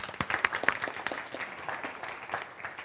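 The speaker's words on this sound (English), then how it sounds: "Let's give her a round of applause." Scattered applause from a seated audience at a business leadership breakfast seminar, distinct individual claps early on thinning into softer, sparser clapping by the end.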